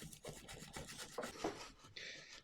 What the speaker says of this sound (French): tu vas faire un trou dans ton mur en placo